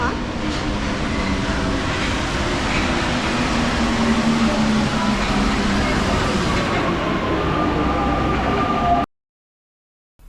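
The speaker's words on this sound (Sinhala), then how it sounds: "අපේ මෙට්‍රෝ එක යනවා" A Paris Metro Line 6 train runs with a steady, loud rumble and a whining drone for about nine seconds before cutting to silence.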